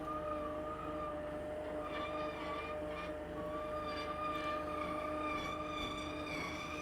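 A CDU 39 gooseneck chain drive winch loads a shipping container with a steady, droning mechanical whine and a sustained tonal hum, continuous and fairly loud throughout.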